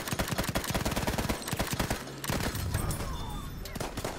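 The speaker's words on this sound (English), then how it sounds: "Enemy machine gun." Rapid bursts of enemy machine gun fire in the Battlefield 1 battlefield, sharp repeated cracks in dense runs, loud and close, with a short gap before the firing resumes more steadily.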